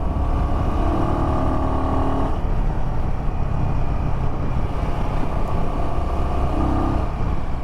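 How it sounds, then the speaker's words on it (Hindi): Royal Enfield Himalayan 450 motorcycle climbing an incline on mountain roads in fourth gear, a loud constant engine drone with wind rush and a brief dip as the rider shifts gears. "सो फोर्थ गियर में भी कॉर्नर्स पे अगर इंक्लाइन भी है तो बाइक इज़ पुलिंग वेल।"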